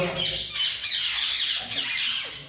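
A pair of cobalt ringneck parrots squawking nearby, harsh overlapping calls that continue without a break.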